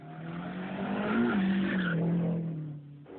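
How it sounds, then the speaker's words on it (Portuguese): A race car roars past close to spectators standing on the track, its engine note rising and swelling then fading with a brief tire squeal, loud and near, no voices. "As pessoas ficam no meio da pista, esperando os carros passarem. E passam muito próximos das pessoas."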